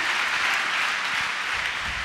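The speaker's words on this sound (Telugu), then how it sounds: "చప్పట్లు కొడదాం అందరూ గట్టిగా" A church congregation at a Sunday service clapping loudly together, a steady wash of many hands applauding at an even level, close and with no talking over it.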